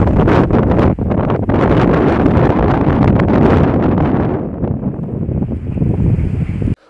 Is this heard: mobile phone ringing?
no